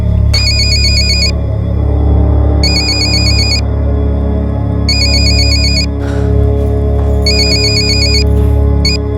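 A phone ringtone trills in four repeated bursts with pauses between, loud and close over a low steady hum.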